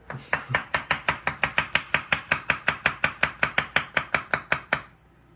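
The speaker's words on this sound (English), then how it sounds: "Now what we're going to do is simply chop it." Peeled garlic being chopped with a knife on a board makes a fast, even run of about two dozen crisp close knocks, steady in rhythm, before stopping abruptly; no talking.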